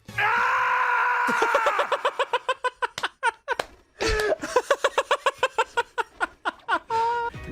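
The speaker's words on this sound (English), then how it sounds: "is that scream when he falls" Sonic lets out a long cartoonish scream while falling in a Sonic video game, a sustained wail followed by choppy, stuttering vocal bursts, loud and close.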